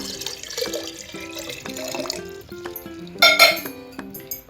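Splashing and trickling of one litre of water being poured for homemade ORS, close and fairly loud, with a few light clinks of a vessel over several seconds.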